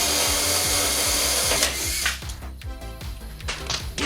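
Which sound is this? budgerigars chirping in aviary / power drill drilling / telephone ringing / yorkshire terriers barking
power drill drilling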